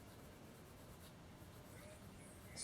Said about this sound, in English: slowly adding more pencil here.